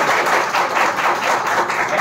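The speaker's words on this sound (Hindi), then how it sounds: "ताली बजा के" Steady applause from a church or mission gathering audience, a dense wash of many hands clapping continuously at even volume, with no voices over it.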